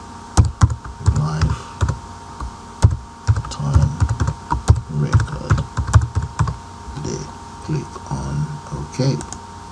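A computer keyboard clatters with quick bursts of typing as a project name is entered, the keystrokes close and crisp with short pauses between runs, mixed with someone talking.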